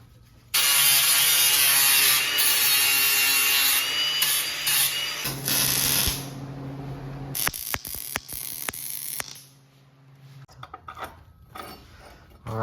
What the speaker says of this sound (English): Gonna cut a little flat bracket and then weld some threaded rod onto it.